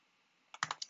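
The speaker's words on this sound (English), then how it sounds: "So I can just start typing a journal entry if I want." A few quick keystrokes typed on a computer keyboard into the Nano text editor on a Raspberry Pi terminal: four close, crisp clicks clustered near the end after near-silence.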